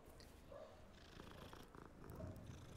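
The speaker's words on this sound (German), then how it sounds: "Ey, da ist noch eine andere Katze." A cat purrs in the video game Hogwarts Legacy, a soft continuous rumbling purr that stays steady and close throughout, with no talking over it.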